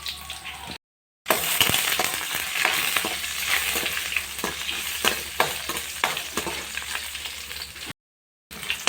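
Food sizzles steadily in a pan while a utensil stirs and scrapes it with repeated clinks and knocks, close and loud, with two brief silent gaps and no speech.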